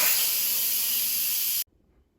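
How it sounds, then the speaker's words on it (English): An Instant Pot pressure cooker vents steam on quick release after cooking frozen meatballs, a loud, steady broadband hiss that runs for about a second and a half and then cuts off abruptly into near silence. "so let's quick release the steam"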